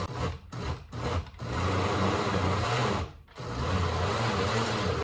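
A grinder running in bursts as ground beef is processed finer, a dense whirring buzz that starts and stops several times early, then holds steady with one brief pause, close and fairly loud.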